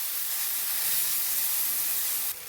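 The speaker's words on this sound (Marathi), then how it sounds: "हे वाटण घालून घ्यायचं वाटण छान तेल सुटेपर्यंत परतून" Ground spice paste fries in hot oil with cumin, mustard seeds and hing, giving a steady, close, bright sizzle throughout that drops slightly in level near the end, with no voices.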